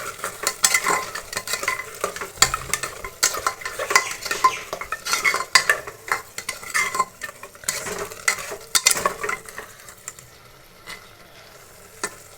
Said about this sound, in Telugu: మసాలా వేసుకొని కొద్దిసేపు వేగితే చాలా బాగుంటుంది కూర.